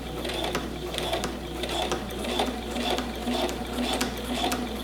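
A sewing machine stitches ribbon trim around a garment hem with a steady, close mechanical whir and a fast regular needle clatter that runs without a break.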